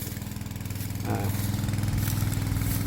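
A small water pump engine runs steadily beside a fishing pond in rice fields with a rough, chugging throb, fairly close and continuous throughout.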